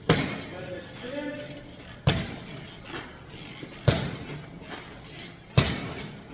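A flexible martial arts weapon whips down onto an object in four sharp, evenly spaced thumps about two seconds apart, each striking hard and decaying quickly, with a voice talking faintly between impacts.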